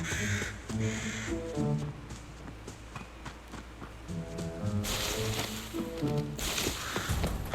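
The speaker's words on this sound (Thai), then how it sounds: "ในแพทนี้จะเป็นเหมือนอีกาเลยปะเป็นฮาโลวีนหรือเปล่า" Crows caw repeatedly in harsh bursts over a steady background in the video game Arena Breakout, with a short pause in the calling midway before it picks up again.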